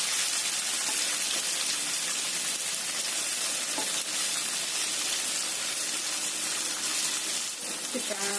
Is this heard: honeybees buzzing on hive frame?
no